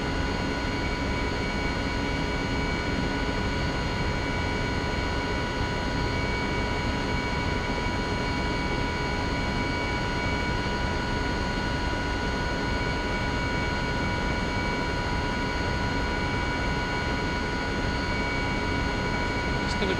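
A Mil Mi-2 Hoplite helicopter in a flight simulator gains forward speed and climbs, its turbine whine and rotor drone holding a steady, loud, unbroken tone throughout.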